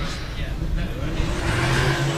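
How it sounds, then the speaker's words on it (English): An E36 BMW drift car with a JZ engine warms its rear tyres during Pro-Am qualifying at the British Drift Championship in Buxton, its engine droning and revving under a commentator's talk. "And Will Gibbs warms up the tyres at the back of this car"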